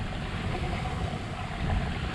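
Sailboat SV Palarran motors out of Belitung under engine power, a dense, continuous drone mixed with wind buffeting and water wash, close and unbroken throughout.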